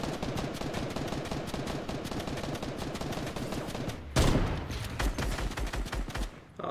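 Rapid bursts of gunfire in Fortnite on Nintendo Switch during a solo arena match, steady volleys shooting through builds with a loud heavy blast near the end.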